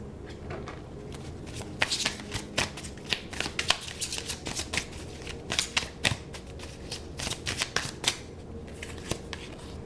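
Tarot cards are shuffled by hand before one is drawn, heard as quiet, irregular riffling and snapping bursts with soft rustling between them.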